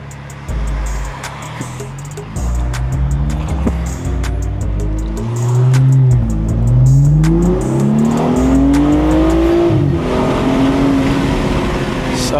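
A Dinan S3-tuned BMW M235 accelerates hard on the road. The exhaust note rises through the gears with clear pitch drops at each shift, loud and close, with some wind and road noise.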